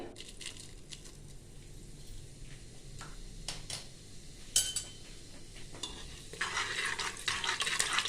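Cloves and whole cumin frying in a pan for a yogurt mutton curry, a faint crackle and sizzle with scraping stirs and clinks of a utensil, growing busier and louder toward the end.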